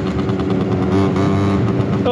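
A stock two-stroke scooter engine revs steadily and loudly while being ridden, its buzzing drone continuous and close for the whole stretch with no gaps.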